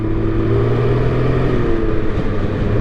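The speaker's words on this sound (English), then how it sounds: "So if I snap the throttle right here," A 2023 Can-Am Ryker Rally Edition three-wheeler engine revving as the throttle is snapped, a steady, loud, close motor drone that holds a strong pitch throughout.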